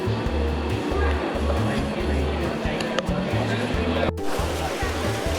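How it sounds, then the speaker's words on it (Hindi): River water flows near Kedarnath in a steady, loud rushing roar, with someone talking over it throughout. "क्या ही मस्त पानी बह रहा है यहाँ पर"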